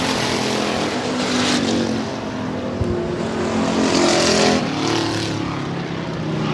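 Race cars circling the track at Hermiston Raceway, a continuous loud engine roar that swells and recedes as cars pass, with no talk over it.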